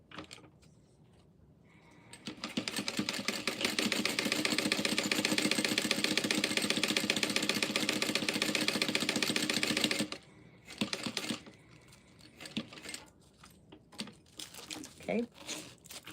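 A sewing machine stitches an Ava shoulder bag at a quarter-inch seam, running in one steady, loud whirring burst for several seconds and then stopping, followed by rustling fabric and light handling noises.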